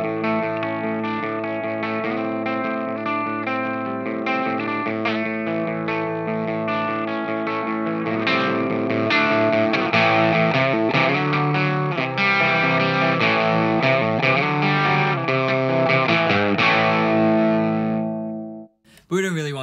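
Electric guitar played through a Mosky Black Rat, a cheap RAT clone distortion pedal, on a fairly clean setting in turbo mode, with sustained ringing chords and picked notes that steady and then end abruptly near the close.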